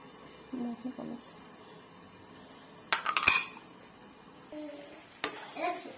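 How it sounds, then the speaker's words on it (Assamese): Metal lid clanking onto a cooking pot of cauliflower, a sharp clatter in the middle amid scattered utensil clinks, with someone speaking softly around it. "অলপ ঢাকন মাৰি দিম"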